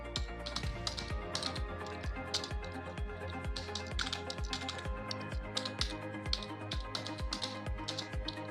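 Typing on a computer keyboard while entering a terminal command to set up a React project with Vite, a steady stream of close, crisp key clicks with no talk.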